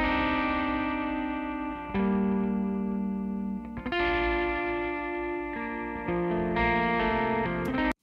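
A 90s Stratocaster electric guitar plays a basic rhythm part dry with no effects, clean sustained chords shifting every second or two, close and fairly quiet, ending abruptly.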